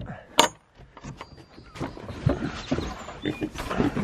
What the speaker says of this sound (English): Good morning, pigs.